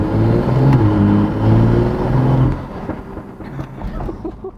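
A BMW M2 with the N55 engine, its exhaust valves opened in sport mode, revving loudly up close in a neighborhood; the deep exhaust drone rises and falls in pulses, then drops away to quieter crackles.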